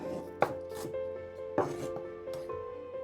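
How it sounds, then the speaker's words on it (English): Shallots thinly sliced with a knife on a board, three or four distinct crisp chops spaced about a second apart, with a faint steady hum behind them. "I'm just going to thinly slice them."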